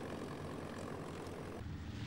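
Bomber plane rumbling down a pitching aircraft carrier flight deck on takeoff, a dense, continuous propeller-engine roar heard for a couple of seconds.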